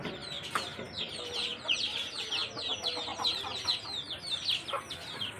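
At sunset, backyard chickens cluck and chatter busily around feeding time, with overlapping calls from several birds at a moderate distance and no voices.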